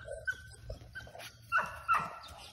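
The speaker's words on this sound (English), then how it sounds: "Can I pet that dog?" A female dog nearby gives a few short yips and soft whimpers in quick, uneven bursts outdoors, with no talking.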